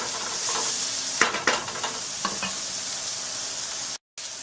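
Garlic and finely chopped ginger sauté in a pan, a steady close sizzle broken by a few brief stirring scrapes and clatters, with a short dropout near the end.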